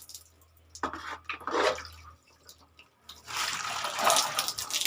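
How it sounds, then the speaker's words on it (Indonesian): Water poured generously from above onto a potted Singapore bougainvillea cutting, splashing and trickling in uneven bursts, louder near the end, with no talking. "Kita siram pakai air ya"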